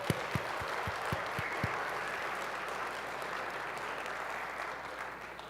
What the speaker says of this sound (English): Can we give them a round of applause for a second?